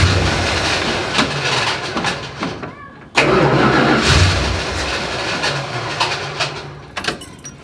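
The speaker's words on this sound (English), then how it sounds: "That starter sounds great." A Dodge Dart engine cranks on its starter, briefly pauses, then cranks again with a rough, rumbling churn close by, a voice briefly heard near the end.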